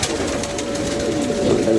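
Pigeons cooing steadily at close range, a continuous low throaty murmur with a faint steady hum behind it and no speech.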